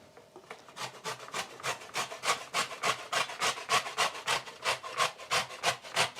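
A whole rutabaga is grated by hand in a late-night kitchen, giving a steady run of about twenty rasping scrapes in an even back-and-forth rhythm, close and clear with no talk.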